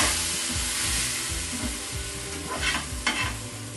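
Bread omelette with gram flour batter sizzles in a pan over medium flame, with a steady close frying hiss and rhythmic stirring or scraping strokes, no talk.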